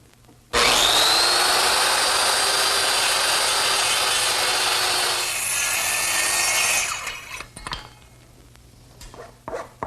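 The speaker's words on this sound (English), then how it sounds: "I'm going to return to my circular saw." A circular saw cuts cheek cuts in redwood for an arbor, starting abruptly and running as one loud, sustained whining cut for about six seconds before spinning down, followed by scattered clatter and handling noises.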